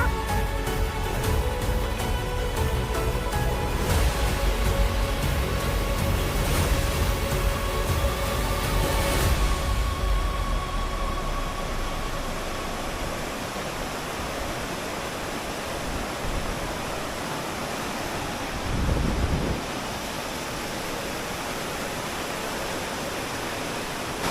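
Waterfall roaring steadily beside a footbridge in the Alps, a loud, continuous broadband rush of falling water that stays constant throughout with no voices.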